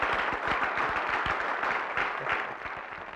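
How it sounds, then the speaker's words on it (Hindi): An audience at an awards event applauds loudly and continuously, a dense wash of many hands clapping that eases slightly toward the end. "जोरदार तालियां बजाई जाए इस अवार्ड के लिए"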